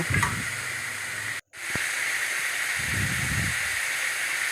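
Spices with salt and sugar sautéing in oil in a pan, giving a loud, steady hiss with a brief dropout and a couple of soft low scrapes from stirring.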